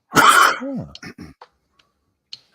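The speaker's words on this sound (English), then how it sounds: "I am still coughing up" A single harsh cough or throat clearing up close, followed by a short vocal grunt and a few small mouth sounds before silence.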